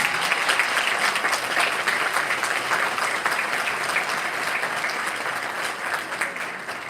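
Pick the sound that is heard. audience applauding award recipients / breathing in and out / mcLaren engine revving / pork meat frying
audience applauding award recipients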